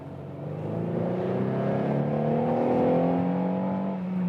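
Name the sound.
Renault Megane GT dual clutch car accelerating from 40 to 80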